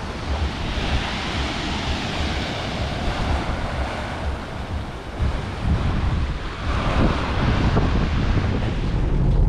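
Sea waves and strong wind at an English seaside in summer, a steady roaring wash of surf with buffeting wind noise on the microphone throughout, growing slightly louder toward the end.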